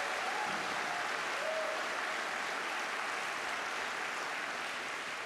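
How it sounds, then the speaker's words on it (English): Steady applause from the audience at a live hula event in April 2023, following an upper school hula class performance, filling the space evenly as a dense wash of clapping with a faint tonal sound briefly over it. "Give them another big round of applause."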